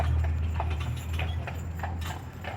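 Clydesdale Morgan cross draft horse hooves clip-clopping in a steady walking rhythm over a loud low engine drone, on a ride around Savannah.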